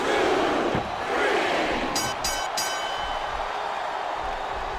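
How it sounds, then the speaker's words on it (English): Arena crowd in the WWE Smackdown vs. Raw 2 wrestling video game roars and cheers steadily throughout, a dense wash of many voices with a brief burst of sharper shouts partway through. "The crowd is coming alive."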